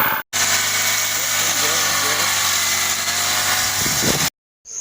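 A Honda GX35 grass cutter engine running at a smooth, steady idle, a close and even hum that carries for several seconds before cutting out abruptly near the end.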